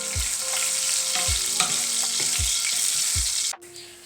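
Hot oil sizzles and crackles steadily as cumin seeds fry for a tadka over mash dal, with a few soft stirring knocks, then the sizzle drops off abruptly near the end.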